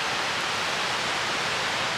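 A waterfall at Silver Falls State Park gives off a steady, broad rushing roar, constant and unbroken throughout.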